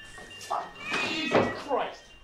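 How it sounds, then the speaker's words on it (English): A cat meows a few short times close by in a movie scene, the calls mixed with a knock and some voices. "Fucking cats."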